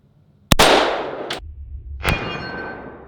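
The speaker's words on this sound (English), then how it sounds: "I'm just going to go ahead and shoot the 3/8 plate as well" A 300 Blackout AR rifle shot rings out close and loud against a 3/8-inch steel plate, a sharp crack followed by a bright metallic clang, then a second ringing strike that decays slowly.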